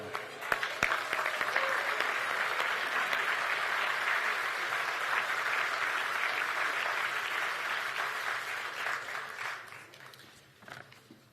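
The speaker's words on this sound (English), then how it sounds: "Let's applaud." Guests at a White House state dinner keep up steady, dense applause for several seconds, a soft, even wash of many hands that thins out near the end.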